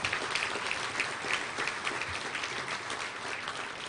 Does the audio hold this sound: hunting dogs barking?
no